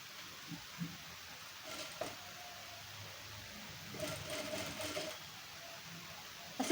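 A sewing machine stitches the cups of a two-piece katori blouse together, its faint, steady whirr running throughout with a few soft mechanical clicks and slight swells in loudness.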